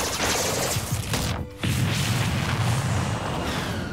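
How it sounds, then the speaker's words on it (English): Explosion from Falco's Final Smash in Super Smash Bros. Ultimate, a loud roaring blast that cuts out sharply for a moment, then a heavy rumbling burst with low booming continuing to the end, no talk. "Nice explosion against the villager right there"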